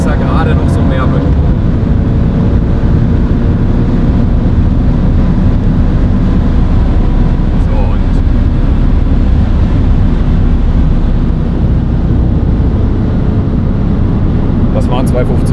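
Audi RS4 B7 accelerating hard on the road, a dense, loud roar of engine, wind and road noise filling the cabin without letup.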